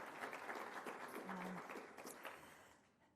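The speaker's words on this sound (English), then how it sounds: "I think he deserves a round of applause" A conference audience applauds a congressman at a commercial space transportation event; a faint, distant wash of clapping holds steady, then tapers away at the end.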